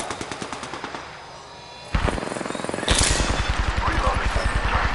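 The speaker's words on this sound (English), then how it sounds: "Getting shot at. Firing on subjects." Rapid automatic weapon fire in the video game Apex Legends, with several long bursts of rhythmic shots, loud and close, one stretch after a short pause, while voices speak over the shooting.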